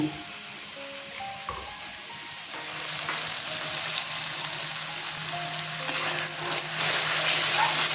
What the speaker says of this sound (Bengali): জল দিয়ে পেস্ট করে এবার কড়াইতে দিয়ে দেব।